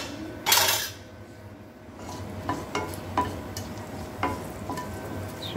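Chopped dried red chillies stirred into a pan for Telangana pachi pulusu, with a loud clatter of utensil against the pan near the start, then a few lighter scrapes and knocks over faint background noise.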